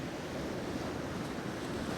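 Rough Atlantic waves with white water everywhere under a dramatic sky, heard as a steady broad roar of surf mixed with wind buffeting, continuous and fairly loud.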